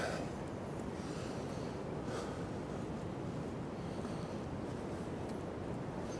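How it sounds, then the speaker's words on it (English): Wind blowing across the top of Scarborough's South Cliff, a constant rushing roar buffeting the microphone with no breaks. "Wind's blowing, as I'm sure you can probably hear."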